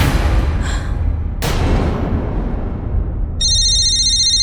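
A phone rings in a short electronic trill near the end, after a sharp thud and a stretch of low background noise.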